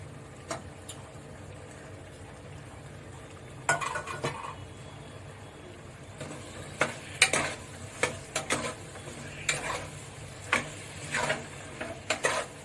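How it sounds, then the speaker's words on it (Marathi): Vegetables for masale bhat (spiced rice) are stirred and mixed in a pot. A quiet opening gives way to a spoon clinking and scraping against the metal in irregular bursts that grow busier and louder toward the end. "सर्व भाज्या मिक्स करून घ्यायचा"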